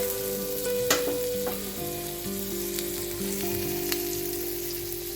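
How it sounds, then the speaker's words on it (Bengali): Butter, one tablespoon, sizzles and fries in a preheated pan, a steady close crackle with a few brief clinks and scrapes over it, no talking. "প্যানে আমি দিয়ে দিচ্ছি বাটার 1 টেবিল চামচ।"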